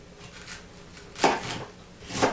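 A kitchen knife slices thin pieces from a fennel bulb on a cutting board, giving a few soft crisp cuts, with two sharper strokes standing out near the end.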